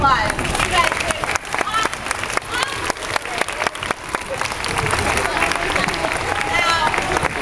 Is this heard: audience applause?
yes